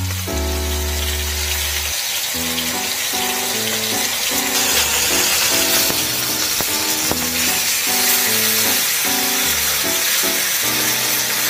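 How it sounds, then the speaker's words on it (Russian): Steady sizzling of a tomahawk steak frying in a hot pan, a broad hiss running throughout beneath louder background music. "Затем кладем мясо и будем жарить."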